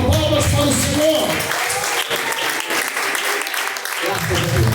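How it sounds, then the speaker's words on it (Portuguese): Church congregation clapping in praise for the Lord at a live service, steady clapping with a voice speaking over the start and end. "com palmas para o Senhor"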